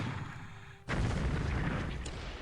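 Naval shelling in War in the Pacific: a sudden heavy blast cuts in and becomes a sustained loud, roaring rumble that fills the rest of the moment.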